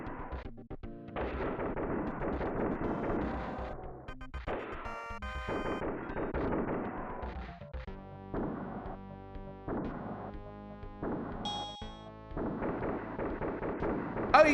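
Turret gunfire in a video game comes as repeated loud bursts of harsh, crunching blasts separated by brief gaps, heavily processed and continuous across the stretch.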